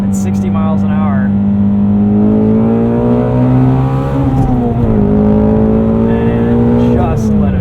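A 2016 Ford Mustang Shelby GT350, downshifted into second gear at 60 mph, revs hard with a loud, sustained engine roar that climbs and wavers in pitch, heard up close from inside the cabin.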